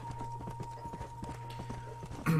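Horse hooves clip-clop in Red Dead Redemption, a steady run of muffled footfalls over a constant low engine-like hum and a tone, ending in a louder burst of noise.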